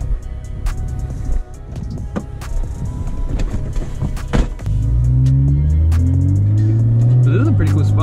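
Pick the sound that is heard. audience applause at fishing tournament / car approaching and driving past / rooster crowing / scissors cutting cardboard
car approaching and driving past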